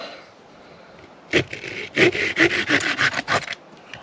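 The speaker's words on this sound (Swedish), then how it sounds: "Svårt att såga, det är så grova tänder på sågen." A coarse-toothed hand saw rasps through wood in a series of quick back-and-forth strokes, close and loud, after a quiet start.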